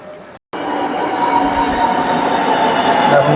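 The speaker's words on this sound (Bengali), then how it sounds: "দেখো মেট্রো চলে এলো।" A metro train pulls into a station in Kerala, a loud, steady rumble of wheels and motor building over a few seconds after a brief silent gap, with faint squeal near the end.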